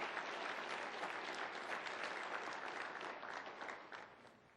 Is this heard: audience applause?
yes